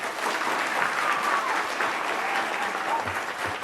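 An audience at a lecture series claps, a short burst of steady, close-packed applause with no voices over it.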